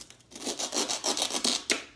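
A Dollar Tree fruit knife slices off the corners of a foam sponge, giving a series of soft, rasping cutting strokes in an irregular rhythm, close and quiet, with no talking.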